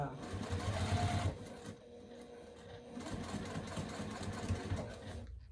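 A Juki sewing machine with a thin presser foot sews through thick parts of a project in short mechanical runs, close by, with a voice talking over it.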